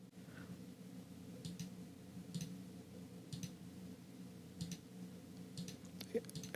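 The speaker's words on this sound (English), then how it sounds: "I'm clicking and clicking there." Computer mouse clicking while retouching an old 1950s photo, several faint sharp clicks spaced about a second apart over a low steady hum, with no talking.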